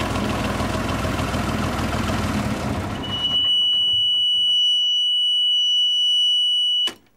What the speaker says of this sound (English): it's alarms for pump, water, alternator and so forth.